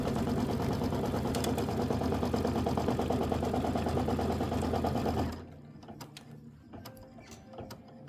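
Sewing machine stitching a quilt border, a loud, steady, rapid mechanical whir that cuts off about two thirds of the way through, leaving faint clicks and handling noises.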